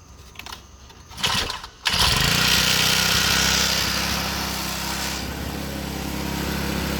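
A small pocket bike engine sputters briefly, then catches and settles into a steady, high-pitched buzzing idle held at raised revs, loud and close.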